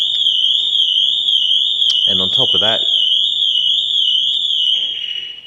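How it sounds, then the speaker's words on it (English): Pandora Smart Pro car alarm fitted to an Abarth 124 Spider sounds a loud, steady, piercing electronic tone that holds throughout and fades at the end, with someone talking briefly partway through. "now it's triggered the alarm system off"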